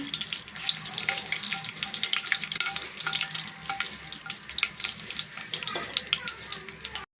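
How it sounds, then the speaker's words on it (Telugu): Spices frying in a hot pan for chicken biryani, a dense steady crackle and sizzle running throughout with scattered sharp pops and occasional stirring scrapes, close and fairly loud with no talking. "సరుకులు వేసేద్దామండి దీంట్లో బాగా ఫ్రై అవ్వాలండి"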